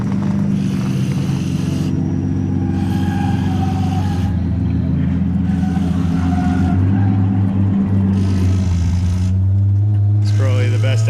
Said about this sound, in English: the car's trying to drive itself sideways